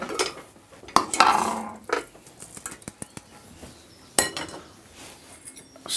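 Dry rice grains rattle and clatter into a metal pot in a couple of short pours, with scattered clinks of utensils afterward.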